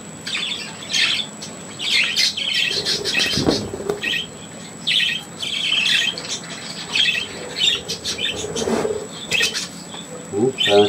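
A small indoor bird, called a little sparrow, gives bursts of sharp squawks and chirps throughout, close and fairly loud, with a steady high whine behind them and brief soft murmurs from a person.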